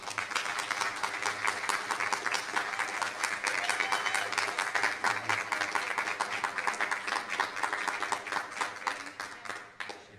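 Audience round of applause at a school district board meeting, dense rhythmic clapping from a roomful of people that holds steady for about nine seconds, then tapers off.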